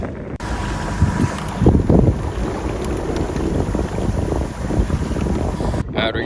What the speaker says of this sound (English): Head sails up, mizzen's up, cold as hell, but we doing it.